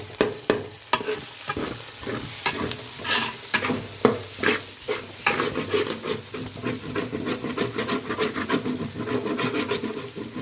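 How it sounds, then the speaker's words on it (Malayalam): Tomatoes sauté in a pan for a homestyle chicken curry, a constant sizzle beneath rhythmic, close scraping and stirring strokes that continue throughout. "തക്കാളി നമുക്ക് നല്ലപോലെ വഴച്ചെടുക്കണം."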